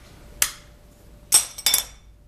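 Sheet glass cut to a pattern gives off three sharp, crisp snaps and clinks, one alone and then two close together a moment later, each ringing briefly in a quiet room.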